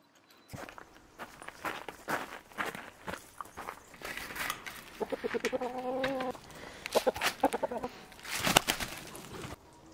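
Hens cluck and murmur in short bursts amid footsteps shuffling nearby, with a few brief bird-like calls rising and falling.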